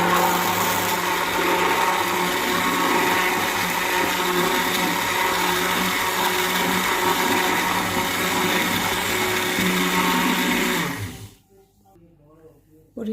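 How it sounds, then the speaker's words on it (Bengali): An electric blender whirs a yellow health drink until it turns foamy, a steady loud motor drone for about eleven seconds before it abruptly stops, leaving near silence. "এবার এটা ব্লেন্ড করে নিই।"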